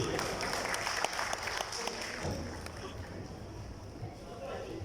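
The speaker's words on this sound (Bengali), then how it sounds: "আমরা সকলে একটা হাততালি দেই।" A crowd at a club's children's competition prize-giving applauds steadily, with the clapping easing and thinning toward the end while people talk over it.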